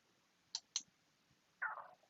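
Mouse clicks on a publish button in data management software, two sharp faint clicks close together followed by a brief soft rustle, quiet and alone with no talk.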